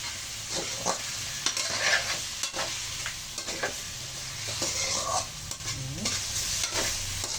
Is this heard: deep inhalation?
no